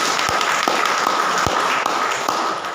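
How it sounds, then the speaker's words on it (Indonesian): A church congregation applauds during a Sunday service, a steady dense patter of many hands clapping close by with a few sharper individual claps standing out, and no speech over it. "Mari kita berikan tepuk tangan."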